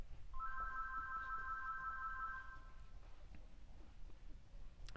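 A faint electronic telephone ringtone trills in a rapid pulsing pattern for a couple of seconds against a low background hum, then stops.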